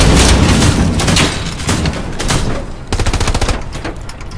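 Sustained machine gun fire in the World War II shooter Hell Let Loose, loud and close, dense rapid bursts with heavy booming low end and a clearly pulsing rattling volley near the end, no talk.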